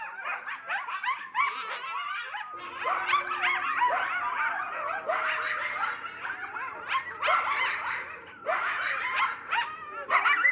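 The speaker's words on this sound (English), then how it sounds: "Those are the sounds of coyotes off of a release called Wild Tones, Wild Animal Calls and Nature Sounds." Coyotes in a nature recording give a run of yips, wavering howls and whimpering, crying-like calls, overlapping in bursts over about ten seconds, fairly clear and close with no talking.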